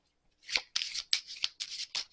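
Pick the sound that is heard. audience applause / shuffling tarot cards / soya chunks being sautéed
shuffling tarot cards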